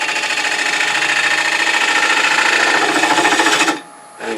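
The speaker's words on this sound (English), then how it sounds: "now we're going to go ahead and shape the tenon. We're going to use a 3/8 inch bowl gouge." A 3/8 inch bowl gouge shapes a wooden tenon on a lathe for a turned jewelry box, a loud continuous scraping rasp with fast chattering texture that stops abruptly near the end, leaving faint machine hum.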